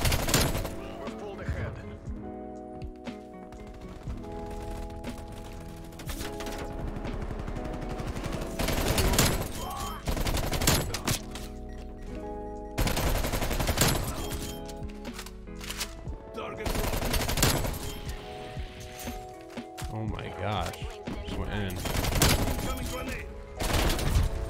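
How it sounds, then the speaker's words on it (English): Rapid bursts of automatic gunfire from a QBZ rifle and other weapons fill a Call of Duty: Black Ops Cold War match, loud and repeated, with a player talking over the shooting. "Who's shooting at me?"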